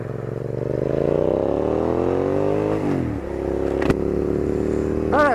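A Hyosung GT650 motorcycle rides a road near Oak Hill, its engine droning loud and close. The pitch climbs steadily through the gears, drops briefly at a shift, then holds a steady cruise, with a sharp clack and a short rev burst near the end.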